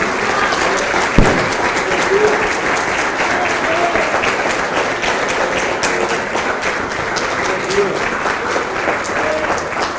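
A church congregation at a Sunday morning service applauds loudly and continuously in praise, dense clapping filling the room, with voices faintly mixed in.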